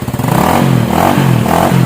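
Motorcycle engine passing close by, a steady loud mid-pitched drone with rising and falling revs and some rattling clatter throughout.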